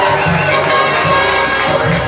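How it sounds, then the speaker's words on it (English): Wedding guests at a ceremony applaud and cheer as couples in the wedding party are introduced, a dense, steady wash of clapping and shouting voices that fills the room without a break. "Nice round of applause."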